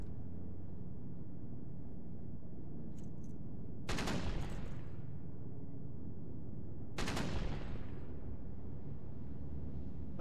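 Machine gun fire from an MG in Brothers in Arms: Hell's Highway, a World War II video game, comes as two loud rapid bursts several seconds apart, each ringing out and decaying over a steady low battlefield rumble.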